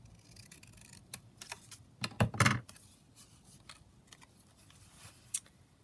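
Scissors snip through paper for a journal page, with a short cluster of crisp cuts close up standing out against quiet background rustling and small ticks.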